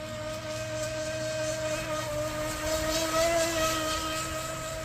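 An RC Proboat Impulse 32 boat, running its factory motor with RC Boat Bitz upgrades, drones along on the water in a loud, steady high-pitched whine that holds throughout with slight surges.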